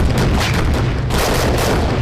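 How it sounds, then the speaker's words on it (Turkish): Loud, dense gunfire erupts during an assassination-attempt shootout in the Turkish TV series Kurtlar Vadisi, with rapid overlapping booming shots filling every moment at close range and no pause. "Duran Emmi ile Çakır'ın ortadan kaldırılmak istendiği çatışma. Daha doğrusu suikast girişimi."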